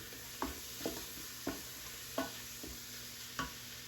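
Chili ingredients toasting and stirred in a pot, a spoon scraping in sharp periodic strokes about every half second over a steady soft sizzle with a constant high whine in the background.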